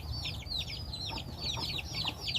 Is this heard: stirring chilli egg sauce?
no